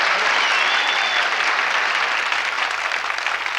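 A television game show studio audience bursts into sustained applause, loud and dense, the clapping continuing without pause.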